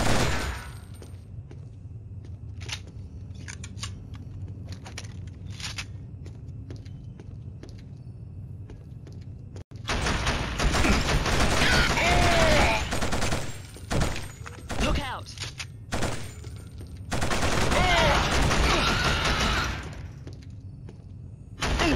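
Heavy gunfire in the video game Killzone HD: scattered shots at first, then dense loud bursts of automatic fire in waves, with brief pauses between volleys.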